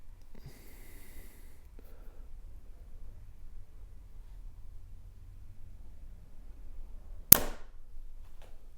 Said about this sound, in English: So let me shoot the RX5 again.